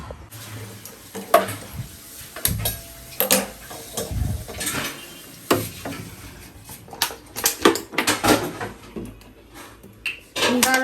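Hard clinks, clatters and scrapes of a baby's milk bottle being washed among kitchen dishes, in irregular bursts at close range with no talking.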